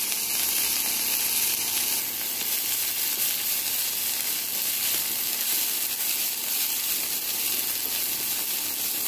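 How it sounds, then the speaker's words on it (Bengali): Coriander leaves fry in a pan with no oil added, giving a loud, steady, close hiss and crackle that runs unbroken with no voices. "এবার আমি ধনিয়া পাতাগুলোকে ভেজে নিচ্ছি"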